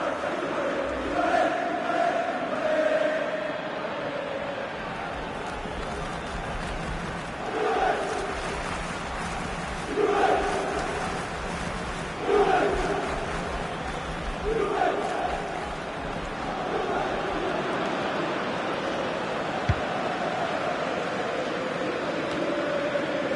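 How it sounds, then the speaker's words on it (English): A stadium crowd in EA Sports FIFA jeers after a missed shot in a Serie A match, with repeated swells of massed voices over a steady background roar. "he's getting some stick from the crowd, and you can understand why"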